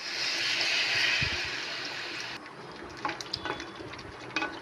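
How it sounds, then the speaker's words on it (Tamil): Water is poured into a pot of chicken curry, a steady rushing splash for a couple of seconds that stops, followed by a few light clinks of a utensil against the pot. "தேவையான அளவு தண்ணி ஊற்றிக்கலாம்."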